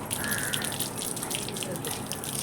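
Water gushing from a tap in a steady splashing stream, with small fluctuating spatters over the flow.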